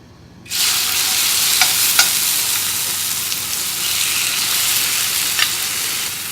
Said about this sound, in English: and saute them really quick